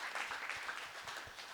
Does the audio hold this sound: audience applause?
yes